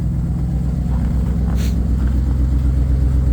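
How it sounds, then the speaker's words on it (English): A pickup truck engine runs steadily just after starting, a loud continuous low rumble with even idle pulsing, close by and without speech. "Truck started with no problem"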